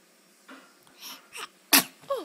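A baby's small, sharp sneeze bursts out amid soft little vocal sounds and breaths, close and fairly quiet overall.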